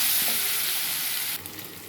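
A spoon of ginger garlic paste sizzles and hisses in hot oil in a pan, the first step of a chicken gravy curry, with a brief close burst of frying that drops slightly in loudness near the end.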